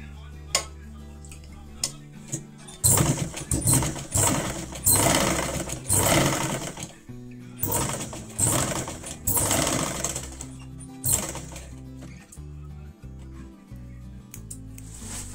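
Sewing machine stitching two fabric pieces together for a handmade Akash Kandil lantern, a fast mechanical whirring in several bursts with ticking stops between runs.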